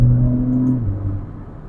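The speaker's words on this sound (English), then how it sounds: "God, that torque. It just, man. Those downshifts." A tuned Alfa Romeo Giulia with an ECU tune accelerates hard, its engine a loud, close rumble that holds a strong steady note and then drops in pitch as it downshifts.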